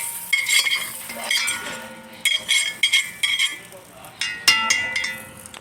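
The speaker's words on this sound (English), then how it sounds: "Let's spread the melted butter around the pan to every corner to make sure it doesn't stick" A utensil swishes and scrapes melted butter around a pan, tapping and clinking against the metal in short bursts. Faint sizzling and a voice come and go in the background.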